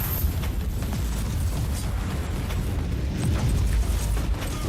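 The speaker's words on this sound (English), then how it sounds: "Whoa, there's so much explosion." Explosions in the video game Warhammer 40K Inquisitor, a continuous dense roar of overlapping booms and blasts, loud and steady throughout with no speech.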